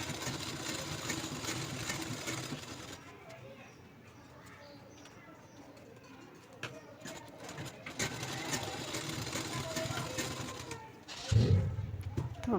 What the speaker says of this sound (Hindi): सिलाई इलास्टिक पर ही लगानी है।